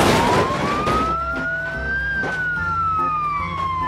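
A toy fire truck siren wails, its pitch sliding slowly up and then back down, fairly loud and close, with faint background noise.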